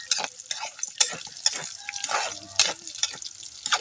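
Tilapia fries in a pan with crackling sizzle and sharp spattering pops, close and continuous, with some scraping stirs in between.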